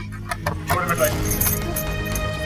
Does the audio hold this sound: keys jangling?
yes